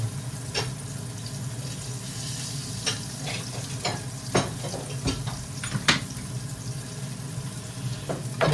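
Cumin and fenugreek seeds sizzle in a hot pan with steady frying crackle, broken by scattered clinks and scraping stirs, close and moderately loud with no voices.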